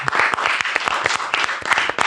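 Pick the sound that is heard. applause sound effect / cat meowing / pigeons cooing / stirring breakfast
applause sound effect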